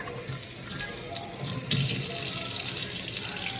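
Raw salmon is washed under a running kitchen tap, a steady close splashing stream of water that continues throughout with no talk.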